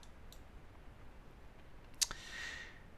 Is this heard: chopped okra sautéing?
no